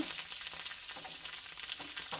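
Steady, faint sizzle of mustard seeds, a dried red chilli and curry leaves tempering in hot oil in a pan, with light crackling pops scattered throughout and no voices.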